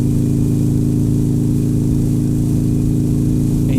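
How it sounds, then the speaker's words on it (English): Motorcycle engine droning at steady highway speed, a loud, unchanging low hum mixed with wind rush and no pauses. "calm, the engine drones"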